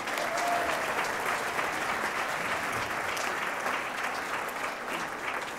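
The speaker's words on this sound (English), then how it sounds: "love to get you to give one more round of applause to Auto Rickshaw Presents Bollywood Rewind" Audience applause for the Auto Rickshaw Bollywood Rewind ensemble at the 2012 Bryden Ceremony, a dense, steady wash of clapping from a large crowd that holds evenly from start to finish with no voices over it.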